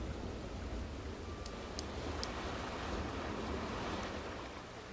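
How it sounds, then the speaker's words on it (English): Water rapids in the video game Planet Coaster 2 make a steady, full rushing roar, a constant broadband wash of water like surf with no pauses. "Isn't the sound of water just so perfect ASMR?"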